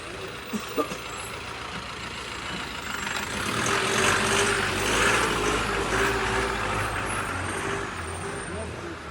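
Trucks and other vehicles pull onto a busy road in Kodaikanal as morning shops open, a rumbling engine drone that swells midway with a faint air-brake hiss, while voices talk over the traffic.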